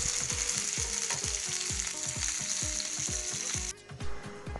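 Fish fillets sizzle steadily in garlic-flavoured oil while a utensil flips and scrapes with rhythmic clicks, the frying hiss dropping away near the end.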